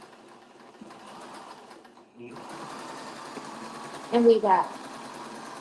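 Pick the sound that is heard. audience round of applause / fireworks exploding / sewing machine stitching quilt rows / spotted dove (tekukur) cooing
sewing machine stitching quilt rows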